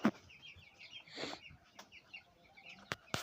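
Young broiler chickens, about two weeks old and forty in number, cluck and chirp softly at a small home flock, with a brief flutter of wings and a few sharp knocks.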